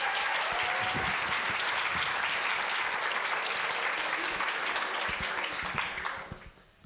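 An audience at a reading gives dense, sustained applause, loud and even for about six seconds before tapering off quickly at the end.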